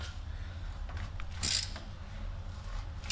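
A wrench works on a crankshaft bolt, giving a few quiet mechanical clicks and a short creak close by, with no one speaking.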